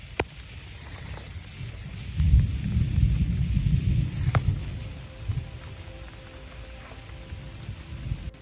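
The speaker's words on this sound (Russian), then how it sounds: "Друзья, дождь может и не кончиться" Steady rain falls in a wet forest, a soft continuous patter close by with a few sharper drops, swelling briefly before easing back.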